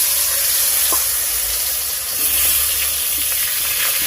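Green bananas (kanchkola) frying in hot oil with whole cumin seeds, a steady close hiss and sizzle that holds evenly throughout, with a few faint stirring ticks.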